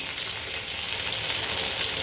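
Chili paste stirred into hot oil in a home kitchen pan for mee goreng mamak, a steady close sizzle and crackle of frying with no talking, constant and fairly loud throughout.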